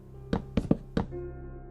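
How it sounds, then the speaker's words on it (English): Oak log blocks are placed in Minecraft: four hollow wooden thunks in quick succession, close and clear, followed by a low ambient hum. "And we can go ahead and put an oak log in this corner."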